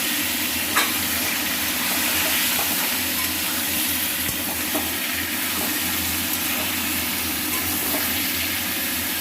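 Vegetables for a vegetarian dish frying in a pan, a dense, even hiss of sizzling oil that runs throughout with faint stirring underneath, steady and close.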